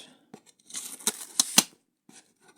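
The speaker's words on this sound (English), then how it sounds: "we're just going to be extra careful not to cut anything that shouldn't be cut with this kitchen knife" Kitchen knife slicing through packing tape to open a post office parcel, heard as a quick run of crisp cutting and ripping strokes with short pauses, close and fairly quiet, with no talk.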